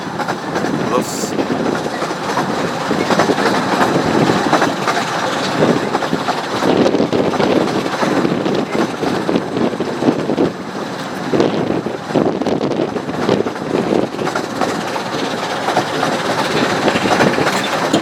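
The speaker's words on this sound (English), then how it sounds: "found the best location now for a down train" A train on the Ravenglass and Eskdale Railway rumbles past with a continuous roar and rhythmic clatter of wheels, loud and close, while wind buffets the microphone.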